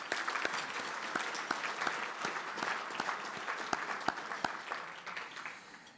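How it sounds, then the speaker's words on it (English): An audience at a gala applauding, with steady, dense clapping from many hands that fades slightly toward the end and no voices on top. "So if we give them a round of applause."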